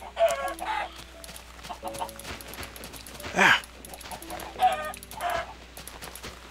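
Chickens in Minecraft cluck repeatedly in short bursts during hardcore survival play, mixed with game sounds and a man's brief exclamation.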